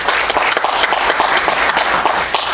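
Audience clapping, a short, close burst of steady, dense applause from a crowd filling the whole moment.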